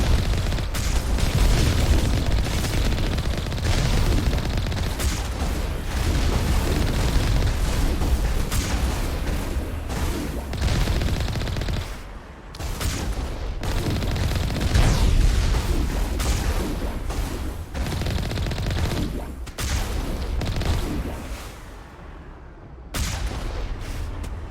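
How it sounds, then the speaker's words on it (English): A Mass Effect battle roars with heavy gunfire and booming blasts, dense, loud and nearly continuous, with a few short dips between volleys and no voices. "Who is still shooting?"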